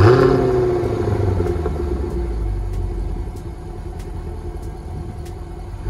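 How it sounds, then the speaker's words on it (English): Exhaust note of a 2020 Jaguar F-Type R Coupe, a deep steady rumble that starts loudest and settles into a low continuous drone with faint periodic ticks, no talking. "it has one of the best stock sounding exhausts."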